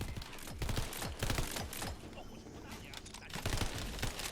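Rapid bursts of gunfire in the co-op shooter game Tiny Tina's Wonderlands, clustered volleys of sharp shots with brief gaps, fairly close and dense, fading midway before another flurry.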